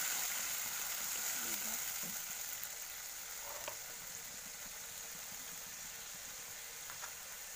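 Spice paste sizzles and fries in a hot, scorched kadai for pabda fish curry, a steady quiet hiss with occasional stirring scrapes and no talk.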